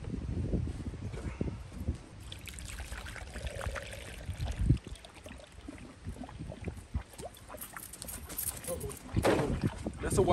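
Water from a hose pours and trickles in, splashing unevenly at close range while people talk over it.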